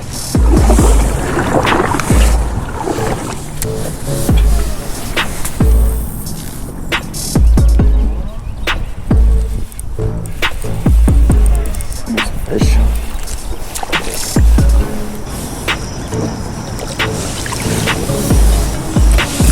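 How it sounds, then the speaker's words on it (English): A kayak on the Allegheny River paddles and drifts along a shoreline, with close, heavy paddle strokes and water splashes falling in a loose repeating rhythm alongside hull knocks and handling noise. "we're going to paddle and drift, cast along this shoreline"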